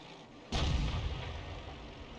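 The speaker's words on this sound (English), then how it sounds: "90mm gun on that tank destroyer" A 90mm gun fires from a tank destroyer in a World War II tank game, one heavy, sudden boom whose rumbling tail rolls off and lingers to the end, fairly faint and distant.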